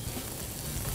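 Chopped onion and whole garlic cloves sizzle in hot olive oil on a very hot griddle, a steady close frying hiss with no talk over it.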